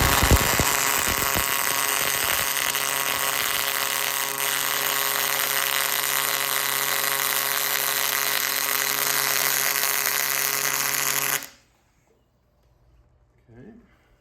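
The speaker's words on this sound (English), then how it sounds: "Now we're going to put this weld in." Electric arc welding during a repair job, a loud steady buzzing crackle with a strong hum, running continuously for about eleven seconds before cutting off abruptly into near silence.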